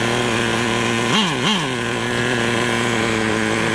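A nitro Traxxas Rustler RC car engine buzzes loud and close with a high, steady whine, revving up twice in quick blips before settling back to a constant idle drone.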